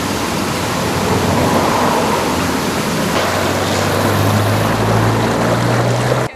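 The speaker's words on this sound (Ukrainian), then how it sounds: "Зранку 12 червня потоки води тротуаром і дорогою дивували полтавців та гостей міста" Floodwater pours in cascades along a sidewalk and road at a city intersection in Poltava, a loud, steady rushing roar that runs throughout, with a low rumble building in the second half.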